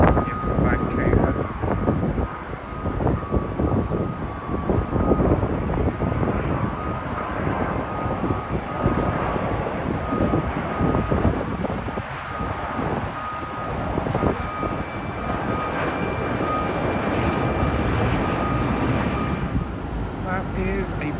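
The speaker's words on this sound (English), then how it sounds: "British Airways, Airbus A350, in from Vancouver." A British Airways Airbus A350 airliner arriving from Vancouver, its broad engine roar held at a steady, fairly loud level throughout, with faint background noise and no clear talk.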